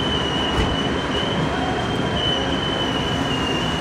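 A Pakistani Greenline passenger train slows toward a red signal near Sahiwal, its steady loud rumble topped by a sustained high wheel squeal, heard from inside a moving carriage with no talk.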